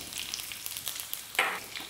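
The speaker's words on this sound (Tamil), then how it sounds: "எண்ணெய் சூடானதும் கொஞ்சமாக கடுகு சேர்த்துடலாம். கடுகு பொரியும் போதே" Mustard seeds splutter in hot oil in a pan, giving a continuous close sizzle with small crackling pops and one sharper burst.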